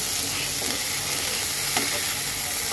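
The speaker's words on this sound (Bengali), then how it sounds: "একটু নেড়ে দেব।" Vegetables with salt and chopped tomato frying in a pan for a fish curry, a dense continuous sizzle with light stirring scrapes, close and loud throughout.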